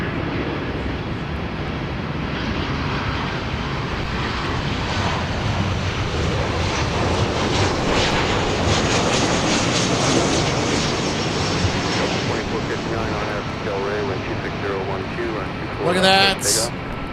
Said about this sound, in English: Look at the climb of the 757.